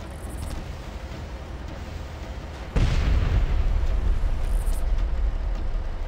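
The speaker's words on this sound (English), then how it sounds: "this time I will shoot this Humvee from a greater distance" A heavy blast in the Far Cry video game as a Humvee is fired on, one loud booming impact that leaves a sustained low roar, over steady ambient game noise.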